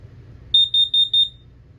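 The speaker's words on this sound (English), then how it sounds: "This is your LP and CO detector." Four sharp, high-pitched electronic beeps sound in quick succession over a low background rumble, an LP and CO detector alarm being tested inside a 2022 Forest River Wildwood 29VBUD travel trailer.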